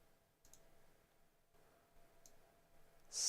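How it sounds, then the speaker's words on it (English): Computer mouse clicking quietly during a virtual machine install, with a couple of faint, isolated clicks in a near-silent room. "sometimes double clicking isn't the best from what I've seen"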